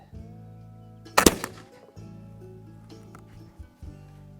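A Kibler Southern Mountain rifle fires a homemade black powder charge outdoors, one loud, sharp report that booms briefly and fades, with a steady low hum before and after.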